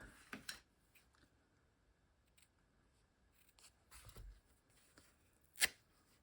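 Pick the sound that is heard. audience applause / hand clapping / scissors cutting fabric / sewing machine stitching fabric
scissors cutting fabric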